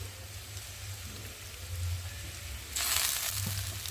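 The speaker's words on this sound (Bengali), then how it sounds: "দিয়ে মশলাটা ভালো করে ভেজে নেব" Cumin paste, ginger paste and chopped tomato fry in an oiled pan, a steady low sizzle that swells louder and brighter near the end as fresh ingredients hit the hot oil.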